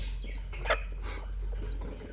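Young chicks cheep and cluck in short, high chirps repeated about four times, fairly close, over a steady low background hum with no talking.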